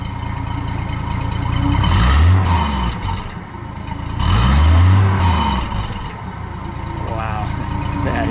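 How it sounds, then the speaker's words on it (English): A 1952 Hudson Hornet Hollywood Coupe with Twin H Power is revved twice over a steady idle, each throttle blip swelling into a deep, rising roar before settling back, heard close up. "Frank, give it a rev."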